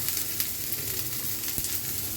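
Leftover fried potatoes reheat in a pan with a quiet, even sizzle, broken by a couple of faint utensil taps, heard close up without any talking.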